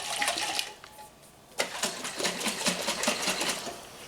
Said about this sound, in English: you gotta put the lid on and just shake it up really good